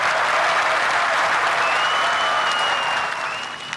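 Crowd at a political rally in Gwadar clapping in response to the speaker, a loud, dense, continuous roar of applause that tapers slightly at the end, with a faint whistle over it.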